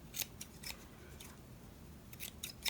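Scissors snip through yarn while making a tassel for a mini yarn wall hanging, giving a few sharp, close cuts spread across a quiet background.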